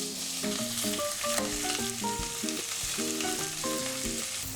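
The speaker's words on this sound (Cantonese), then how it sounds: "就放入牛尾煎到兩面金黃" Oxtail pan-fries in hot, lightly smoking oil, with a steady close sizzle and hiss throughout and crackling spatters, loud and continuous with no talk.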